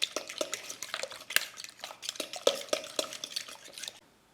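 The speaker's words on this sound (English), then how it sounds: "All right, give those a whisk." Eight eggs being whisked in a bowl, quick rhythmic metallic taps and clinks of a whisk against the sides, close and fairly quiet, stopping abruptly near the end.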